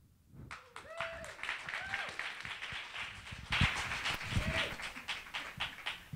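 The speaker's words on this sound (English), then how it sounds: "please give a round of applause" Applause and clapping from an audience with cheering voices and a few whoops, steady throughout and fairly loud, with chatter mixed in.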